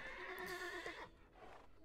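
A horse in the video game Lego Worlds gives a short, close whinny lasting about a second, followed by a fainter trailing snort.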